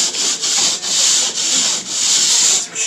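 A drywall rasp shaving the rough edge of a drywall sheet: loud, close, rhythmic scraping strokes, about six in quick succession with brief pauses between them, and no talking.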